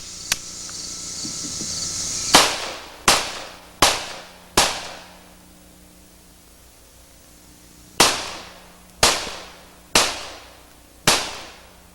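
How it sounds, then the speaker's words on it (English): A Ruger Mini 14 rifle without a compensator fires four sharp shots in a quick rhythm, then pauses, then fires four more, each report loud and ringing briefly outdoors. "Now I'm going to demonstrate the Mini 14 without the compensator."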